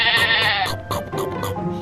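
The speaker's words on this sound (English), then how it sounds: "Oh, it looks like we have a sheep. He is a sheep." A sheep bleats close by, first in one long wavering cry and then in shorter bleats, clear and fairly loud.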